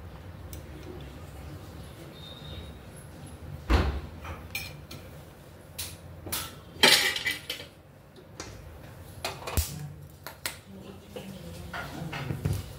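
A metal spoon scooping ghee clinks and taps against a metal bowl in a few sharp, scattered strikes while someone talks steadily in the background of a kitchen.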